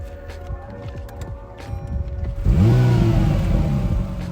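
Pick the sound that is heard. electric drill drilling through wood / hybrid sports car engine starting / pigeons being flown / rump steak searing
hybrid sports car engine starting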